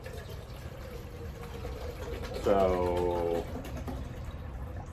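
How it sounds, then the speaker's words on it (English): A whole bottle of water, about 16.9 ounces, pours into an Atepa 1800ml backpacking cooking pot, a brief, rising gurgling splash near the middle of the clip. Low background noise surrounds it, and a voice speaks briefly. "We're gonna put a whole bottle of water in this thing"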